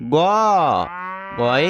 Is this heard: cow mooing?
yes